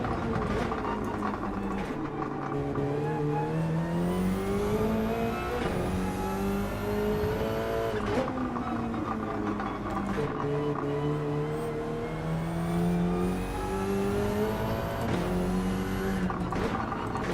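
Race car engine in Gran Turismo 7 on the Catalunya circuit, revving up and down in repeated sweeping cycles with shifting pitch, loud and continuous, with no talk.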